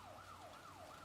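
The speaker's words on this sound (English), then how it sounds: "Police siren." A police siren from the video game Resident Evil 9 wails in a smooth rising and falling sweep, steady and fairly faint, with no voices over it.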